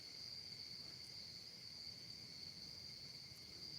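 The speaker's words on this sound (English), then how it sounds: "the spooky cricket sounds" Crickets chirp steadily and continuously in a high, shimmering drone around a fall bonfire at night, faint but unbroken, with no talk over them.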